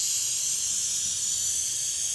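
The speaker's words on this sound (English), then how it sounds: "This is like a penetrant, not just a lubricant, so hopefully it'll get into those joints there." Penetrant lubricant sprays in a steady, continuous hiss onto the seized joints of an International C1800 that sat for decades. The spray is close and unbroken, with no talking.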